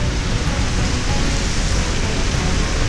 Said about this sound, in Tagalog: Lakas sa ulan.